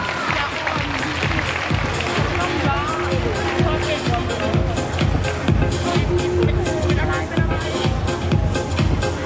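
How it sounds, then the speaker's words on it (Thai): Loud, sustained applause with cheering from an audience at a Thai cosmetics launch, welcoming Miss Teen Thailand 2015 and her runners-up onstage; dense clapping runs steadily throughout with crowd noise mixed in. "ขอเสียงปรบมือต้อนรับพวกเธอเลยค่ะ"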